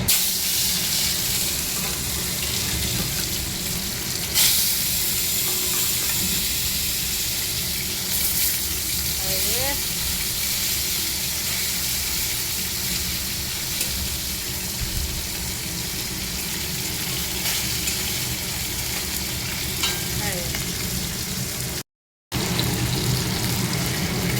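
Three large pieces of fresh rohu fish frying in hot oil in a pan, a steady dense sizzle running throughout with occasional light clinks, no talking.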